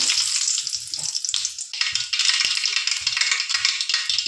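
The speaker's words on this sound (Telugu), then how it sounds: "నూనె అయితే వేడైంది. మరి ఇక చికెన్ అయితే చేసుకుందామని మరి కొంచెం జీలకర్ర వేస్తున్నా." Cumin seeds sizzling in hot oil for a Rayalaseema chicken curry, a steady bright crackling sizzle with soft stirring knocks and a brief dip partway through, no voices.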